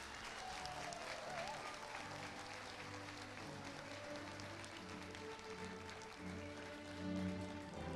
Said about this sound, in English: Let's get a clap in.